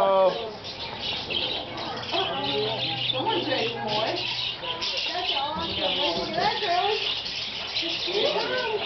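Birds chirp and coo in a busy chorus while people talk over them, the calls repeating irregularly at moderate distance.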